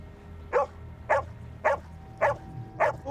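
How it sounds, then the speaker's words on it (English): Dog barking in distress in the woods, five sharp barks at a steady, roughly half-second interval, moderately distant over a quiet background, with no speech. "his dog, which was normally pretty well behaved, started going crazy, barking, acting as if it was in distress"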